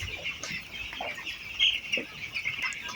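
Farm chickens crowd together, clucking busily as they fight over vaccine-dosed drinking water after two hours without it. The calls are close, overlapping chatter with a few louder squawks.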